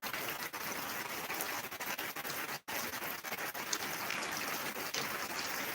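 Rainwater from heavy rain gushes steadily into a borewell fitted with a mesh screen, a constant broadband rushing and pattering close by, broken once by a brief dropout, with no talking.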